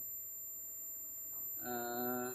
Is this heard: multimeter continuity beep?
yes